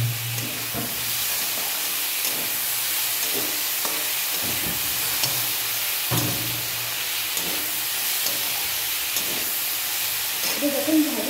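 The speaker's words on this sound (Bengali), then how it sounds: "এর মধ্যে আরেকটু আদা বাটা আমি দিয়ে দিচ্ছি এবং ভালো করে এটাকে আরেকটু ফ্রাই করে নিচ্ছি।" Ginger paste frying in a pan while cooking dal with seasonal vegetables, a steady broadband sizzle with scattered stirring scrapes and clicks, close and continuous throughout, no one talking.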